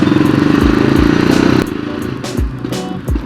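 A vintage 1961 JAWA 250 motorcycle idles and revs close by, its exhaust giving a rapid, loud pulsing thump that eases to a lumpier, uneven beat with sharp bursts.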